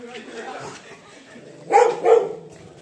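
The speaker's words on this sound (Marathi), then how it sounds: "काय कुत्र्याला खेळवतात हे" A dog on a terrace being played with gives two quick, close barks near the end, while people talk softly before them.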